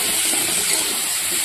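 Potatoes and pointed gourd frying with ground chilli and cumin paste, making a continuous, loud, close hiss of sizzling oil with no distinct stirring knocks or speech.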